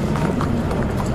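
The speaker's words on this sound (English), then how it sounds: "the horses move from the stables to beneath the grandstand" Racehorses' hooves clip-clop in a quick, even rhythm as they walk from the stables to beneath the grandstand at Meydan racecourse in Dubai, heard close and steady over a low background hum.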